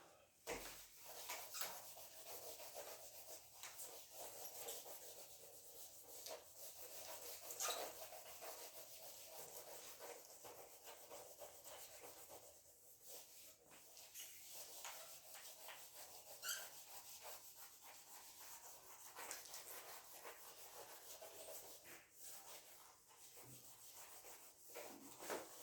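Writing is rubbed off a board during a physics lesson, a long, uneven scraping and wiping at close range with soft irregular strokes and no talking over it.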